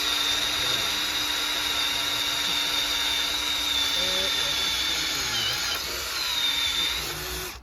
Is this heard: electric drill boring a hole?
yes